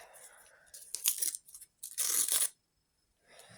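Paper crackles and rips in a few sharp bursts as a paper surprise packet is torn open up close, with short pauses between the tears.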